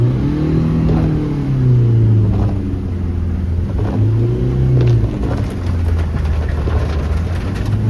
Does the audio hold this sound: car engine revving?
yes